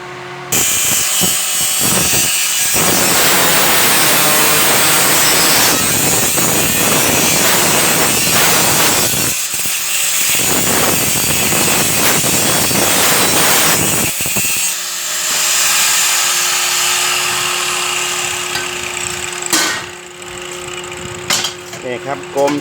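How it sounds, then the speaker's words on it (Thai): Round steel pipe is cut on a homemade cutting stand, a loud, close, continuous grinding and rasping that pauses briefly a few times before trailing off. "เป็นที่ตัดเหล็กกลมหรือว่าแป๊บใหญ่แล้วก็ทำแท่นแบบนี้นะครับ"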